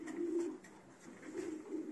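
A pigeon, a female held by a pigeon keeper, gives soft low coos in two rounded phrases with a short pause between, close by and faint over a quiet background.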